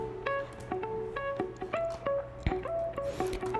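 Guitar processed through Native Instruments Guitar Rig in a merengueton beat, playing a quick rhythmic pattern of short plucked notes with ringing overtones, moderately quiet and alone.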